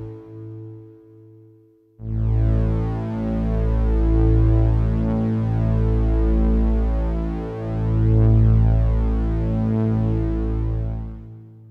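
A dark ambient drone from the ELZ_1 play synth, with a layered reverb and tunnel reverb tail, swells in after a quieter opening, then holds as a loud, deep, sustained hum that slowly pulses and throbs, with no voices.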